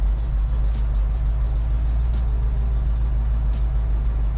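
A 1960s Ford Mustang with a 302 V8 cruises through town, its engine a steady low, close rumble inside the cabin, unbroken and even, with no one talking.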